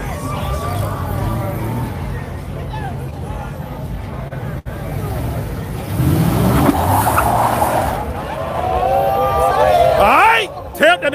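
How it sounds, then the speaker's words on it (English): A Cadillac Escalade tears it up at a Memphis car meet, its loud engine revving and tires squealing in rising and falling sweeps over a shouting crowd. "All right, tear up that damn Escalade."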